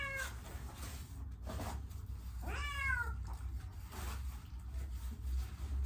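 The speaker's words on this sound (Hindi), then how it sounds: "देखो ये है वो बिल्ली, ये पैरालाइज्ड है, पीछे से दोनों टांगे इसकी काम नहीं करती है" A paralysed cat whose hind legs do not work meows once, a clear rising-then-falling cry in the middle, with a quieter mew earlier, over a steady low hum.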